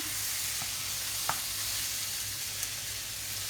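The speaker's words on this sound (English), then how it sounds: "Stir those in. Starts to cook off the spices, which is really useful." Spices sizzle steadily in a hot pan for a chicken tagine, a continuous frying hiss with a couple of small clicks from stirring, no voices.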